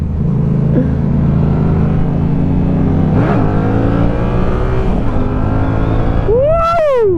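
A Yamaha R7 motorcycle engine revs hard and close during a wheelie, with rising and falling throttle sweeps, gear changes and a sharp high rev at the end, with no talk.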